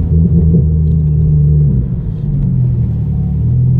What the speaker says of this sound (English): this car is so smooth and it drives itself